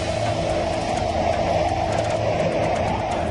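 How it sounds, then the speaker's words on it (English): A steady, dense roar of hurricane wind outside fills the clip, constant and loud with no pauses. "You can start to hear the roar outside."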